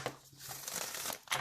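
Tarot cards being shuffled by hand, a soft papery riffle and crinkle that runs steadily for a second and a half, close and fairly quiet, with no voices.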